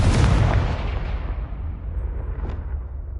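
A Confringo fire spell bursts in Hogwarts Legacy, a deep booming explosion that hits hard at once and then decays into a rumbling, fading tail with a small crackle near the end.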